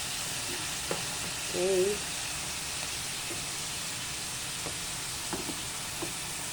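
Sliced ampalaya and dried squid frying in a pan for breakfast, a steady sizzle throughout with a few faint clicks and a brief spoken word.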